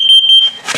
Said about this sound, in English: This device down here is the carbon monoxide and LP gas detector.